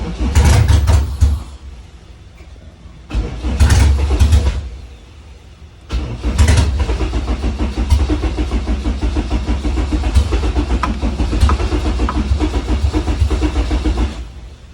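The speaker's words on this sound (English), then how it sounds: "Maybe if we give it a little bit of gas while trying to fire it." A K-swapped Honda Integra cranks over with an intermittently priming fuel pump, trying to fire: two short loud cranking bursts separated by pauses, then a long continuous rough churning crank, close and loud, with no talking.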